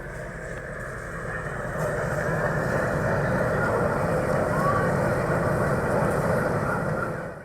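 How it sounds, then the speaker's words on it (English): A dense, layered travel noise bed mixing airplane cabin roar, engine rumble and subway-style low-end, steady and loud throughout with no breaks. "a combined travel noise track with airplane, engine ramble, and subway style low end layered together"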